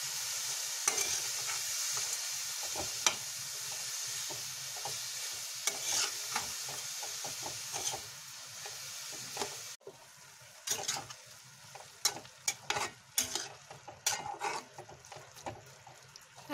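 A spoon stirs carrot halwa with raisins, cashews and almonds in a pan, giving soft scraping and clinking strokes over a quiet sizzle, close by and irregular.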